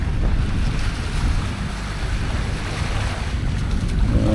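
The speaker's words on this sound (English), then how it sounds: "Not a lot of wind, so we're motor sailing. More motoring than sailing." A sailboat motor sailing under engine on the open ocean near Bora Bora in the Society Islands, with a steady low engine drone and rushing water, while wind buffets the microphone throughout.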